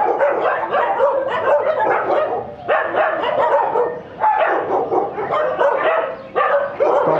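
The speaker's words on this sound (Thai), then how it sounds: "นี่ครับก็เสียงมันเห่าแบบนี้เนี่ยก็ไม่แปลกครับอาจจะเป็นพวกสัญชาตญาณของสุนัขนะครับ" Several dogs bark loudly and continuously at a dog care center in Nakhon Pathom, Thailand, overlapping bursts of barking and yips with brief pauses between volleys.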